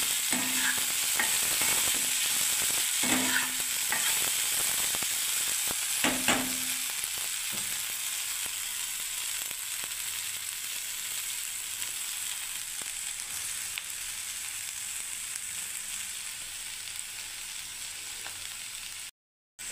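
Hyderabadi-style okra (bhindi) frying in a pan, a loud, dense, continuous sizzle with a few early clanks and scrapes of stirring, running steadily for nearly twenty seconds.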